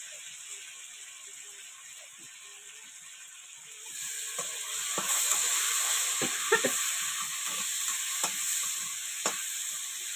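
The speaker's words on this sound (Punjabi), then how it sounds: "ਤੇ ਆਲੂਆਂ ਕੱਲੇ ਸੇਕ ਲਵਾਣਾ ਬਸ 2 ਮਿੰਟ ਮਸਾਲਾ ਜਿਹਾ ਲੱਗ ਜਵੇ ਦੋ ਮਿੰਟ ਇਹਨਾਂ ਨੂੰ ਰਾੜਾ ਲਵਾਣਾ ਵੀ ਆਲੂਆਂ ਨੂੰ" Potatoes with red chili and spices frying in a pan, a steady sizzle that grows louder midway, with scraping and stirring clicks from a utensil repeating irregularly up close.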